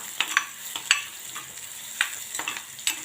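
A spoon stirs lentil curry with garlic in a clay pot, scraping in a loose series of short, close scrapes and clinks over a soft, steady sizzle.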